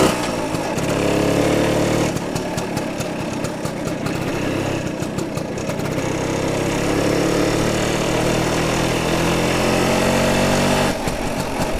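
A 1967 BSA Bantam D10 175 motorcycle on a test ride, its small engine buzzing steadily with rising and falling revs and brief gear-change dips, close and loud with no talk.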